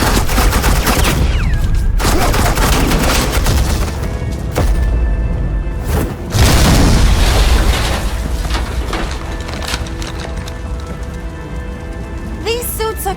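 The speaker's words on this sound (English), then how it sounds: "suppressing fire." Dense suppressing gunfire from agents in the video game Batman: The Enemy Within, with rapid clattering volleys in loud bursts separated by brief pauses, a few sharper cracks standing out near the end.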